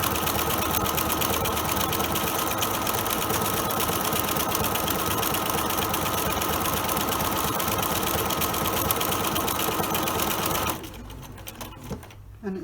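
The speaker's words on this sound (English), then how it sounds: "the buttonhole sews automatically" A sewing machine automatically stitches a shirt buttonhole, its steady, rapid mechanical whir running continuously for about eleven seconds before stopping, leaving quieter handling noises.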